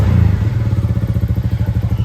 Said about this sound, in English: Revving up the 4x4 quad bike there.